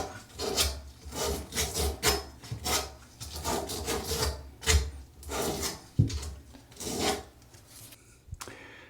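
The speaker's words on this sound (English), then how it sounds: "take some plumber's cloth and clean that end of the pipe off with that." Plumber's cloth rubs back and forth over the end of a pipe while a toilet shut-off valve is replaced, a close run of rhythmic scratchy strokes about twice a second, ending with a few scattered scrapes.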